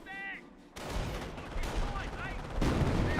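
Gunfire in the World War II strategy game Company of Heroes: several sharp bursts of shots and blasts cut in at intervals over a dense battle din, loud and close, with a faint voice underneath.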